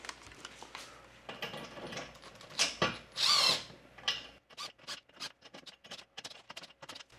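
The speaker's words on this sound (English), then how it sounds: "And now I can get the nuts, put them on, and tighten them a little bit down." Nuts are tightened with a 10 millimeter wrench while a shower privacy tent is mounted to a Jeep Wrangler roof rack: quick, close metallic clicks and ratcheting bursts, with a louder grinding spell midway, then a string of sharp separate clicks.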